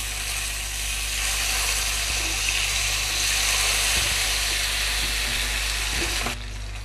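Fish frying in hot oil in a covered pan, a dense, continuous crackling sizzle that stays loud and close throughout, dropping slightly in intensity near the end.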